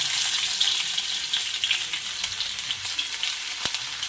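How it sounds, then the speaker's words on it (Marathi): Mustard seeds and a coarse ginger, garlic and cumin paste sizzle loudly in hot oil for a mixed vegetable dish, a close, steady frying hiss with faint crackles and one sharp pop near the end. "हे बघा, तेल तापलेलं आहे। मी मोहरी ऍड करत आहे आणि हे अद्रक, लसूण, जिरं पेस्ट आहे जाडसर।"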